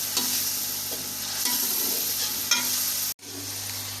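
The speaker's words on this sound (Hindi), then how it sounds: "मसाले को हम 6 से 7 मिनट तक अच्छी तरह से भून लेंगे।" Spice masala frying in a pan for matar pulao, giving a steady close sizzle with occasional scraping stir sounds and a brief cut near the end.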